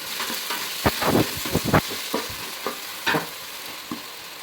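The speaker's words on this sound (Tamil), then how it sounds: "நல்லா தக்காளியை போட்டு நல்லா வதக்கி விட்டுக்கணும்." Three large ripe chopped tomatoes sauté in hot oil for semiya kichadi, a steady sizzle broken by several bursts of spoon scraping and stirring up close.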